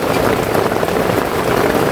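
Dense, loud rain pouring down without pause, a constant hissing roar of drops hitting surfaces.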